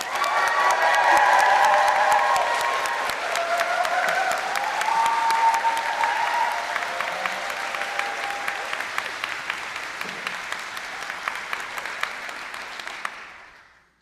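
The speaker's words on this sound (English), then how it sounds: "For all the graduates of the class of 2023, one more round of applause." A crowd at a commencement ceremony applauds the graduates of the class of 2023 with loud, sustained clapping and some cheering. The applause thins gradually and then stops.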